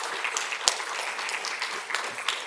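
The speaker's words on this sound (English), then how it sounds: "Clap it up, y'all." Applause from an audience at an art-and-culture talk event, a dense continuous patter of many hands clapping at steady moderate loudness for a couple of seconds with a few sharper individual claps, no voices over it.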